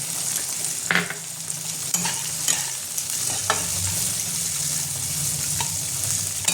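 Soya chunks and peanuts fry in a pan with a continuous close sizzle. A spoon scrapes and stirs with irregular clatters and knocks. No one talks over it.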